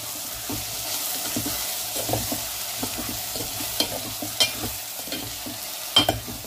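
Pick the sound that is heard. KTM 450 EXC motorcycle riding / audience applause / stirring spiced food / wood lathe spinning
stirring spiced food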